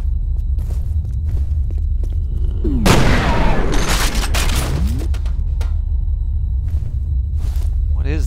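Repeating cannon weapon firing in the shooter game F.E.A.R., a heavy burst of booming shots and rumbling impacts lasting about two seconds over a low throbbing background.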